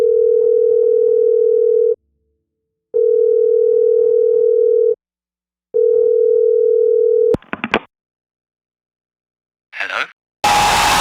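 Steady telephone dial tone in loud repeating bursts with short gaps, then a few clicks and faint rustles before a sudden burst of noise at the end.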